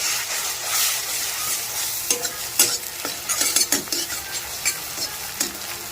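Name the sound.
eggs frying in hot oil in a wok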